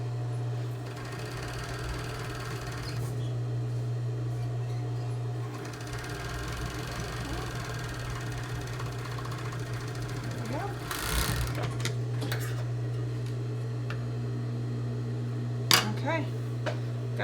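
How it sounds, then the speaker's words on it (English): A sewing machine stitches elastic in a steady, continuous motor hum that runs almost the whole time, with brief pauses and a few clicks near the end. "So you want to make sure you're not pulling it when you're sewing with those machines."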